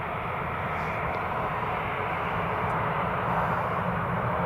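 A TUI airliner on the move at Newcastle International Airport, a steady, loud broadband jet roar that swells slightly as it passes and never lets up.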